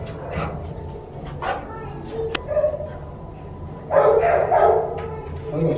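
Dog barking in several short bursts, close by, with a longer cluster of barks near the end and people talking in between.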